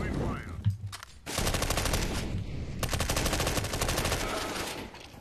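Rapid automatic gunfire in a competitive Counter-Strike: Global Offensive match, fired in two long, dense volleys close and loud, after a brief faint voice and a short pause.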